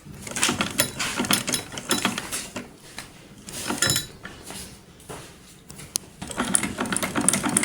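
A sewing machine stitches a straight seam, its fast mechanical clatter coming in uneven bursts with short pauses between runs, close and alone without talk.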